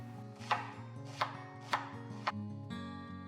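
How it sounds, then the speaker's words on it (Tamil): A knife chops a small onion finely on a board, four crisp, evenly spaced cuts over quiet background music, followed by a brief scrape. "ஒரு சின்ன சைஸ் வெங்காயம், அதையும் பொடியாக நறுக்கிக்கலாம்."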